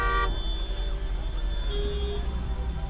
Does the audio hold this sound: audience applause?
no